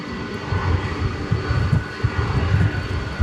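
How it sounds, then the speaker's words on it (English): UPS McDonnell Douglas MD-11 cargo jet at a cargo hub at DFW Airport at night, its engines running as it prepares for takeoff: a steady low roar with pulsing rumble, loud and continuous. "one of 3 MD-11s that is here at the UPS cargo hub, getting prepared for takeoff"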